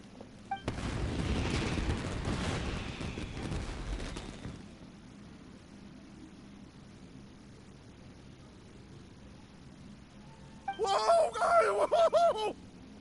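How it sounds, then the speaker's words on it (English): Fireworks burst in Genshin Impact: a loud crackling, booming blast lasting a few seconds, then a quiet stretch before a brief burst of bright sparkling whistles near the end. "Yoimiya, this is turning into a bit of a fireworks display."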